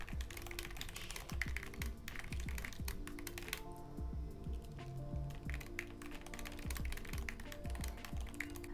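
Steady, close typing on a computer keyboard while writing an email, a fast irregular patter of key clicks with heavier thumps from larger keys and a brief lull partway through.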